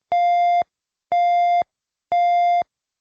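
A school shelter-in-place alarm: three identical loud electronic beeps, each about half a second long, repeat at an even one-second rhythm with silence between them.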